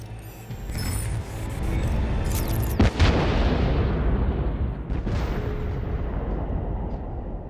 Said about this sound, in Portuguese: Ih, jogaram a bomba.